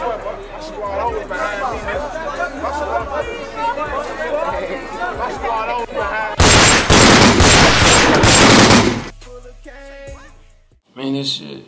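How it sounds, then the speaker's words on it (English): Gunshots on a city street ring out in a loud, rapid burst of several shots over a couple of seconds, following a stretch of crowd chatter and background music, then fading into quieter sounds. "You hear them shots."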